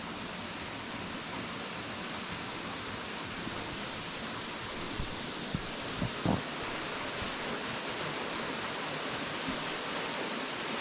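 A waterfall at Routin Linn gives a steady, broad rushing roar, continuous and fairly close, with a few faint knocks partway through and no talk.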